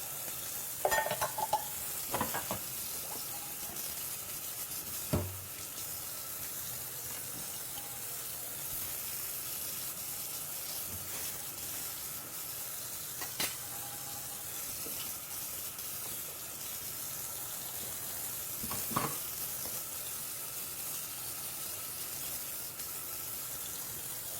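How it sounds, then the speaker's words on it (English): Mushrooms sautéing in a pan give a steady, even sizzle hiss throughout, with occasional soft utensil knocks and stirring scrapes, close and moderately quiet with no speech. "just trying to saute these mushrooms, get them to start releasing their moisture, get a little color on them"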